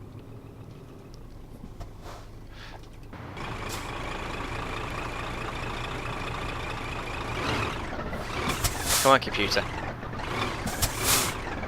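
A truck in Euro Truck Simulator 2 reversing to park, with a steady engine drone, rhythmic reversing beeps and hissing air-brake bursts near the end, while someone talks over it.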